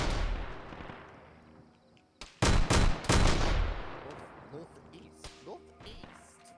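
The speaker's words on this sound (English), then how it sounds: "I think he's shooting and it's registering as a grenade," Bursts of gunfire in the video game Elysian Drop Trooper: a few loud, heavy shots in quick succession, then quieter scattered pops over a low background rumble.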